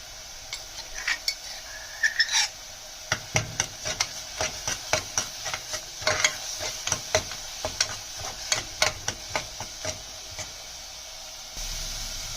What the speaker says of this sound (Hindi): ये मसाला भी हमने अच्छे से भून लिया है